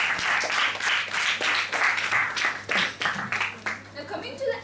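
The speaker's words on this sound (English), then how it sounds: "a thunderous round of applause" Applause for a youth leader's icebreaker speech at a speaking-club meeting, a modest group clapping in uneven bursts, fairly close, with a low steady hum beneath and brief voices mixed in.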